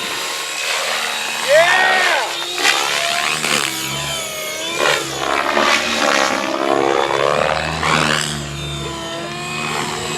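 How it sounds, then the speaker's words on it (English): A helicopter hovers low over the grass at an airport air show in Phillipsburg, a steady loud engine and rotor roar with shifting pitch throughout, and a spectator shouts briefly near the start. "Flying helicopters is considerably different than flying fixed-wing aircraft"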